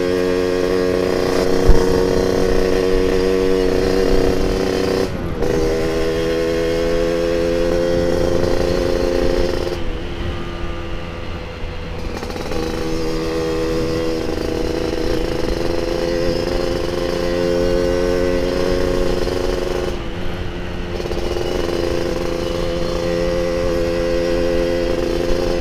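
Yamaha RX King two-stroke motorcycle with daily-use porting revving on a test ride, a loud raspy buzzing engine note held steady, with brief throttle drops near the start, middle and end.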